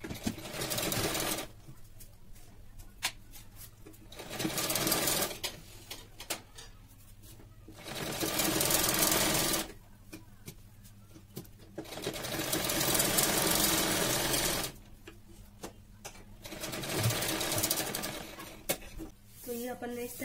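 A sewing machine stitches a strip onto a blouse in several separate runs of a few seconds each, each a steady, close mechanical whir. Quiet stretches fall between runs, where a voice talks softly.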